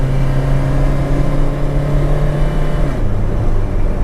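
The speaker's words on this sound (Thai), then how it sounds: "เดี๋ยวลองโอเวอร์ไดนะ โอเค ขึ้นเขาได้ เชิญเกียร์ เกียร์สอง" Inside an older Toyota Corona with an automatic gearbox climbing a hill, a loud steady engine drone that drops in pitch near the end as the transmission shifts into second gear.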